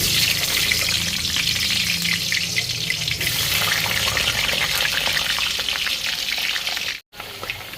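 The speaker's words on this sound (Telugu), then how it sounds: "ఇది పల్లి నూనె వేడి అయిపోతుంది. ఆలుగడ్డలు వేసుకుందాం." Potatoes sizzle loudly and steadily in hot peanut oil, a continuous close frying hiss that drops out briefly near the end.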